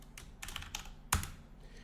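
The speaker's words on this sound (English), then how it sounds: "I'm now able to just type in a name" A name is typed on a computer keyboard: a quick, soft run of close key clicks with one sharper, louder keystroke near the middle, all in a quiet room.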